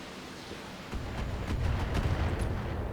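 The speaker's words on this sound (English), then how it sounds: "they just trigger some indirect LRM fire" Indirect LRM missile fire in the mech game BattleTech: a rumbling barrage of distant blasts that swells after a brief quiet start and keeps on as a dense roar with a few sharp cracks.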